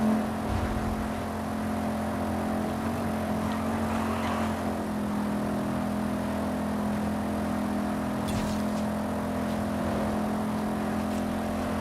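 A car in Forza Horizon 5 cruising on back roads, its engine a steady droning hum with a brief rev early on, loud and close, with no one talking.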